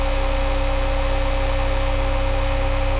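A synthesized sound run through a multi-band saturation distortion plugin with heavy, asymmetrical distortion gives a steady, dense, crunchy buzzing drone with a constant low hum, loud and continuous for the whole stretch.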